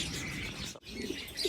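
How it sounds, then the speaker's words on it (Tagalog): Pigeons in a breeding loft coo and murmur steadily and close by, with soft chirps overlapping throughout and a brief pause midway. "habang nagre-ranging yung ibon natin"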